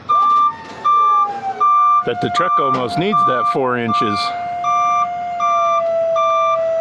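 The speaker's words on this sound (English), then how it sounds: "The new trailer also beeps." Steady, evenly spaced electronic reversing beeps from a trailer behind a 2023 Mack Granite truck repeat throughout, with someone talking over the middle stretch.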